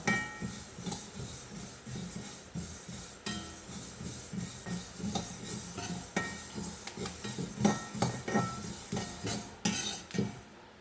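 Dry fenugreek seeds rattling and scraping in a hot pan without oil, with repeated stirring clinks of a utensil against metal throughout.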